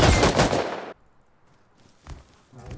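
Automatic gunfire in the video game Rust rips out in a dense, loud burst of just under a second, followed by near silence and then a few scattered fainter shots.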